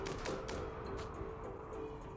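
Gunshots in RimWorld, a steady run of quick, fairly faint shots over a dense background hum, repeating irregularly throughout.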